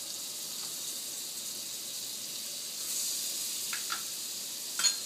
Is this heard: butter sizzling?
yes